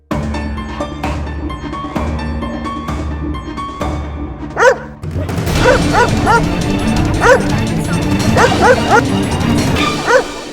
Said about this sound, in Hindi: ये कुत्ता अदालत में क्या कर रहा है?